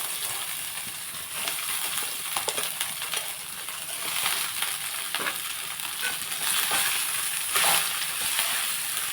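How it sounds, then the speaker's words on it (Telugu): Frying in a pan while making lemon rice: a steady crackling sizzle runs throughout, with scattered clinks and scrapes of stirring rising over it, close and fairly quiet, with no talk. "ఇప్పుడు మనం ఫ్రై చేసేస్తాము"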